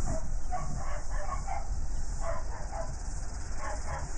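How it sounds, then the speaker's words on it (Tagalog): Dogs bark in the distance over a New Zealand hillside neighbourhood of old houses: short, faint, repeated barks in loose groups over a steady, broad background hiss. No one speaks. "May mga tahol pa ng aso."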